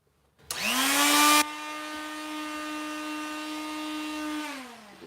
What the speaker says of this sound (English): I got to get my my die grinder here, and I'm going to rub these grind lines off